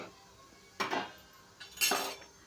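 Semolina roasting in ghee with cardamom, stirred in a pan for sheera; two short scraping, clinking strokes of a spoon against the pan over a quiet background.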